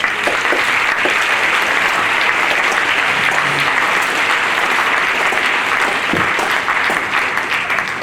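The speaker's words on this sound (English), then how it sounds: "can we please give them a round of applause?" A full audience at a Lake Hamilton symphonic winds concert applauds the Board of Education, thick sustained clapping from many people that holds evenly at high volume for the whole stretch.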